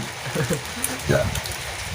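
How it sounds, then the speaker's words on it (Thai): Light drizzling rain falls around an outdoor noodle stall in Thailand, a soft steady patter under the scene with brief nearby clinks and a faint voice. "ฝนรินๆด้วย"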